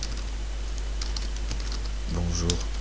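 Keys on a computer keyboard tapped in a short run, fairly close, with a voice speaking briefly near the end.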